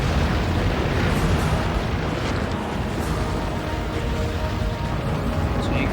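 An anti-dragon bomb in the Lao Shan Lung village level detonates with a loud, dense roaring blast that rumbles on and stays heavy from start to finish.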